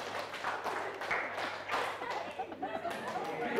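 A classroom of pupils clapping together in counted rhythmic patterns, the claps arriving in quick uneven bursts amid chatter and a teacher's voice, with a low steady hum underneath.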